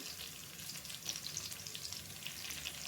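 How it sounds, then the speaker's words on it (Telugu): Green chillies and curry leaves fry in hot oil while being stirred, a steady bright sizzle with light crackles running throughout, close and fairly quiet, no voices. "కరివేపాకు వేసి బాగా కలుపుకోండి"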